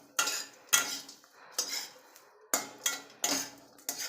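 A utensil stirs and turns cauliflower florets roasting in a pan over low heat, making sharp scraping clinks and knocks at a loose, irregular pace, close and fairly clear, with no voices.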